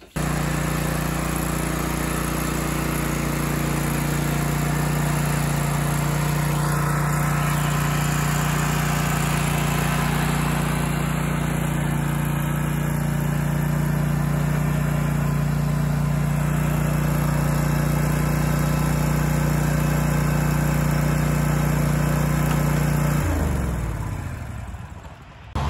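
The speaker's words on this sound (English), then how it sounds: "Down to one push mower." A small gas push lawn mower runs steadily and loud close by for nearly the whole stretch while a lawn care crew mows a new property, its engine winding down and cutting off at the very end.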